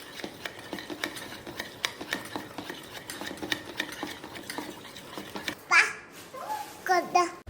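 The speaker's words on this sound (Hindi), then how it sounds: "प्लेन कढ़ी बना रही हूँ। सब तैयारी हो गई है, बस इसको मिक्स करना है।" A spoon stirs plain kadhi mixture in a pot, giving rapid rhythmic scraping clinks; near the end a voice and other talk cut in over the stirring.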